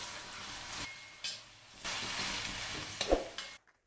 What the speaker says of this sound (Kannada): ಈರುಳ್ಳಿ ಅನ್ನೋದು ಮೆತ್ತಗಾಗುವವರೆಗೂ ಫ್ರೈ ಮಾಡ್ಕೊಳ್ಳಿ